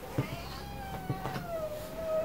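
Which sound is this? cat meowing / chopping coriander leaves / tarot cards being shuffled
cat meowing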